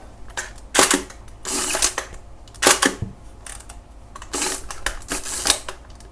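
A Hasselblad 500C/M medium-format camera fires its shutter repeatedly, a series of sharp mechanical clacks and snaps in clusters, close and distinct against a quiet room.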